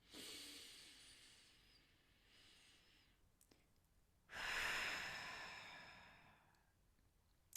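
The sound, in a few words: a deep breath in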